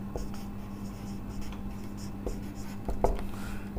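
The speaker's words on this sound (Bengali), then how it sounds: "লক্ষ্য করো, এবার আমি লিখব" Chalk or marker scratching across a board during a chemistry lecture, short intermittent strokes with a few sharper taps, fairly close over a steady low room hum and no talking.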